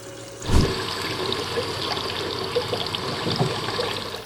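Water rushes and trickles steadily through a rotating garnet-processing machine on a beach, with a sudden splashing surge at the start and continuous gurgling flow after, fairly close and loud.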